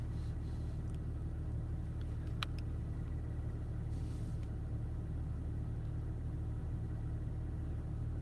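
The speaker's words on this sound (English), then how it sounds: "Because the car's running." A car engine runs at a steady low idle inside the car, a continuous rumbling hum with faint clicks over it and no talking.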